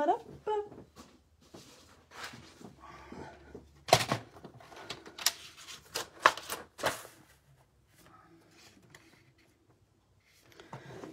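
Cardstock being scored and then cut in half to make two card bases, giving a run of sharp scraping, sliding and clicking strokes mixed with handling noise, with speech coming and going around them.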